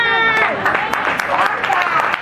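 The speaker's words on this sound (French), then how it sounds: "Il ne faut pas acclamer." A congregation in a church service applauds and cheers, with dense clapping and excited voices filling the room steadily and loudly throughout.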